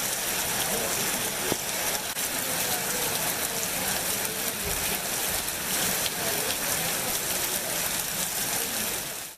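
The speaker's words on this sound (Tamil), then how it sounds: "அரை மணி நேரமாக கனமழை வெளுத்து வாங்கியது" Heavy rain pours steadily across farmland around Andipatti in Tamil Nadu during the northeast monsoon, a dense, loud, unbroken hiss with no talk.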